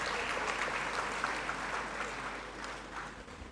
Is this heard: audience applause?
yes